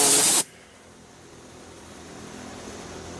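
Compressed air blasts briefly and loudly at a Stihl or Husqvarna chainsaw during cleaning maintenance, then stops sharply, leaving only a low background hum.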